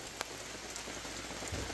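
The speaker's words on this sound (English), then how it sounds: "Just a steady, heavy rain." Steady heavy rain falling at a campsite during a bad-weather day, a dense, even hiss of drops with a few sharper nearby splashes and no speech.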